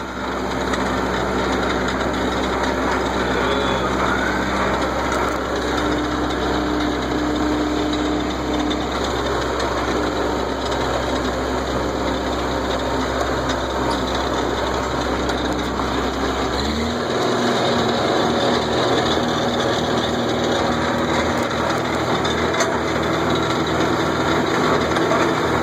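A ranch tractor engine drones steadily while driving, a continuous close rumble with a constant buzzing tone; partway through the low end drops away and the pitch shifts as the engine load changes.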